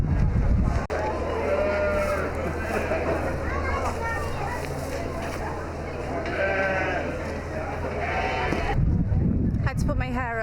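Sheep bleat repeatedly nearby at an agricultural show, several overlapping calls over steady wind noise, with a person talking at times in between.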